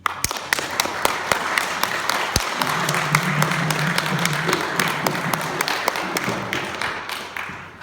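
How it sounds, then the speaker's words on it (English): Audience applause for performers Catherine and Qin Qian at an erhu and drum concert: dense, steady clapping with sharp individual claps, sustained for about eight seconds. "give a nice round of applause for Catherine and Qin Qian"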